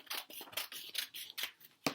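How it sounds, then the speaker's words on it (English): Scissors snipping paper circles for a craft, a quick series of crisp, close cuts in an irregular rhythm with no talking. "This is good to practice your scissors cutting"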